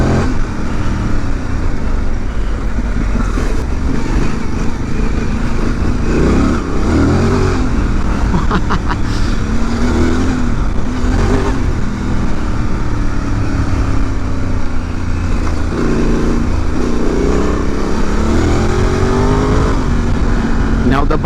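A Honda Transalp 750 motorcycle fitted with racing suspension roars continuously on a test ride, engine note rising and falling with throttle, close and loud over wind noise.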